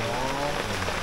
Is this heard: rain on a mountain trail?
yes